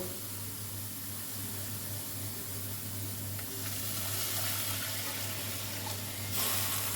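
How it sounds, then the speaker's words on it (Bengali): Hot water pours into a pan of Rui fish curry masala, a steady wash of rushing, sizzling sound that grows a little louder toward the end, with no talking. "আমি এখানে গরম জল দিয়েছি, গরম জল দিলে ঝোলের টেস্ট হয় ভালো।"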